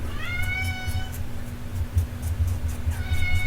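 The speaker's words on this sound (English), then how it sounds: "There's my kitty." A pet cat meows indoors several times in short, rising calls, close and clear over a steady low electrical hum.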